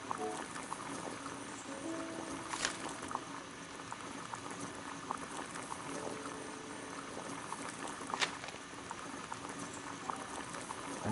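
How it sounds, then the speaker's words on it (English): Water boils in a kettle on a gas burner, a steady low bubbling and hiss with occasional sharper pops and clicks, moderately close and alone. "Boil water in kettle."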